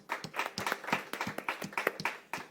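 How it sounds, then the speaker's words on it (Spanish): A church congregation claps to welcome its pastor, a faint, rhythmic clapping with distinct individual hand strikes in a steady beat, heard from a distance. "vamos a recibirlo con un fuerte aplauso"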